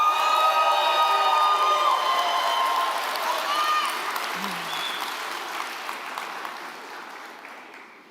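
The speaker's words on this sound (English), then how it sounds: "you can cheer for him in absentia, Matthew A. Hogan." An audience at an executive MBA commencement ceremony in Oregon claps and cheers with whoops, a dense sustained wash of applause that gradually tapers off over several seconds, with voices mixed in.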